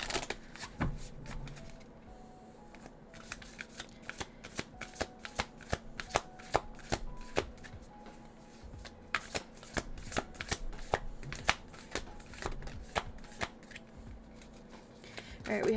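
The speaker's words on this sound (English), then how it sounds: "it doesn't mind these cards being shuffled right now." Tarot cards are shuffled over and over, a long run of crisp, rapid riffling snaps and soft slides, close and fairly quiet, with no one speaking.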